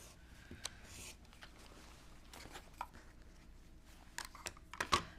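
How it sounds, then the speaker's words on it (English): Small piece of quilting fabric being cut with scissors, quiet scattered snips and rustles with a few sharper cuts toward the end, close and faint. "Just going to cut a little piece off."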